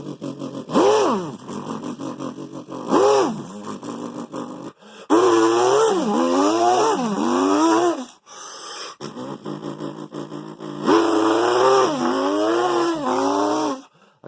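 A voice imitates a 2001 Dodge Viper V10 engine, rising and falling in several loud revving bursts with short pauses between them, growly and strained like a snore or chainsaw.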